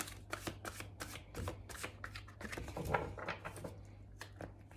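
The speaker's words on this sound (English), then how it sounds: "Do one final shuffle." Tarot cards being shuffled up close, a quick run of crisp riffling flicks and soft slaps, fairly quiet over a low hum.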